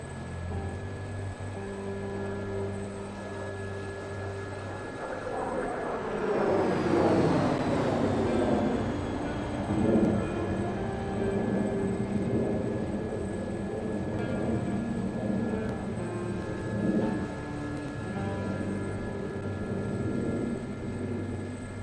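Jet aircraft from the Frecce Tricolori virtual aerobatic team in a flight simulator, flying an inverted high-speed pass in front of spectators: a steady engine roar swells around the middle of the pass with a falling whine as it sweeps by, continuous and fairly loud.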